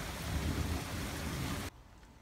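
Raindrops patter steadily onto a rain sensor as a dense, even hiss that cuts off abruptly near the end.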